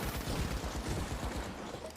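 Dense gunfire and explosions in The Finals, a continuous loud barrage of blasts and grenade booms packed together with no pauses and no voices.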